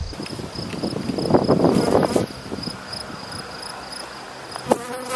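Russian honeybees swarming close around the face during a summer hive inspection, a dense whining buzz of many insects near the microphone with passing drones rising and falling, mostly steady with brief louder bursts.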